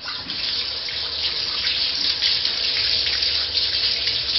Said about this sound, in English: you have to wash your hands.